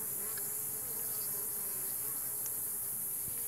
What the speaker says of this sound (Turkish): Yine arılar polen getiriyor.